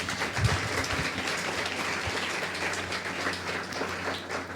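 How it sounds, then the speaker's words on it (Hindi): A church congregation at a Sunday sermon service claps for the Lord, a steady dense wash of applause holding at even strength for the whole stretch with no talking over it. "क्यों ना जोर से ताली बजाए प्रभु के लिए।"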